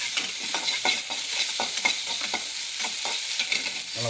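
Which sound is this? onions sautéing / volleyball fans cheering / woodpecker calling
onions sautéing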